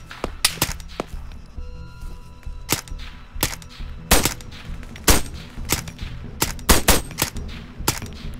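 Sharp gunshots in the video game Arma 3 Battle Royale crack out at irregular intervals, some single and some in quick pairs, loud and close over a quiet background.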